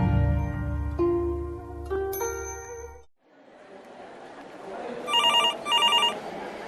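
A telephone rings loud and close, a steady trilling bell with a bright ding, then after a short gap two quicker bursts of electronic ringing sound over a hiss of room noise.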